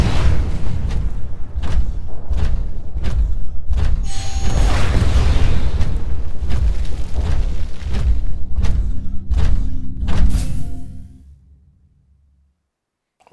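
Rockets explode in Titanfall gameplay, a run of loud booming thuds and blasts in irregular succession over a rumbling roar, ending abruptly in silence.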